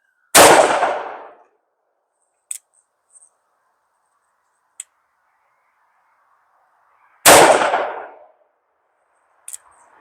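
Two loud, sharp gunshot blasts from a Taurus Tracker .44 Magnum revolver, each with a short decaying boom, set apart by quiet gaps and small mechanical clicks, very close.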